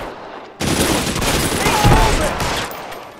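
Burst of Kalashnikov rifle fire in the video game L.A. Noire, a loud rapid fusillade of automatic shots that erupts suddenly and keeps rattling for about three seconds.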